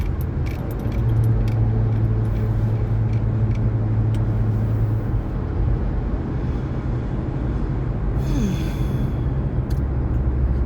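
Inside a moving car, a steady low engine and road drone runs continuously, with a faint jingle of keys near the start and a brief higher whoosh late on, with no talking.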